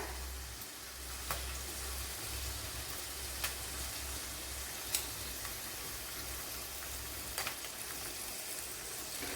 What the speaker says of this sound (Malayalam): അതിലേക്ക് ഫിഷ് മീൻ പൊരിച്ച ഓയിൽ തന്നെ ഒഴിച്ചു കൊടുത്തിട്ടുണ്ട്. ഇതിലേക്ക് ഇനി ഒരു 3-4 വറ്റൽമുളക് ഇട്ട് കൊടുക്കാം.